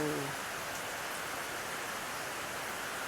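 Rain falls steadily all day in a broad, even hiss, faint and continuous, with a brief voice at the very start.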